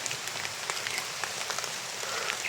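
Rain falling at night during a typhoon: a dense, continuous hiss with scattered close droplet ticks and patters, steady and fairly loud with no talk.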